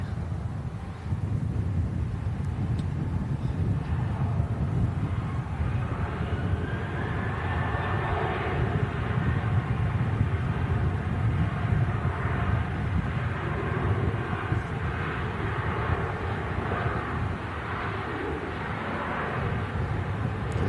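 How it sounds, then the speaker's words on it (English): A Ryanair airliner lined up on runway 23 left for takeoff hums with a steady low engine rumble, distant and continuous, mixed with some wind noise. "Ryanair next to the path, just lined up on 2-3 left to take off."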